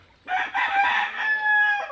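A Bennett gray gamefowl rooster crows once, a close, loud, sustained cock-a-doodle-doo of nearly two seconds, standing alone with no talk over it.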